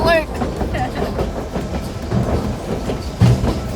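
A White Pass & Yukon Route train rolls along the Bennett Lake shoreline toward Carcross, Yukon, with a continuous, loud rumble and rhythmic clickety-clack of its cars on the rails.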